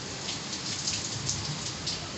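Heavy stormy rain falls during a windy storm, a dense steady hiss of drops drumming on surfaces, close and constant with no voices.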